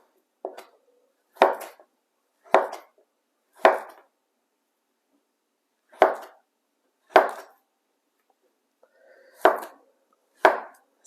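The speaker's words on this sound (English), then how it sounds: "This is the way I slice my plantains." A knife slices through peeled plantain on a cutting board, a series of about nine crisp, close chopping taps spaced irregularly with short silent pauses between cuts.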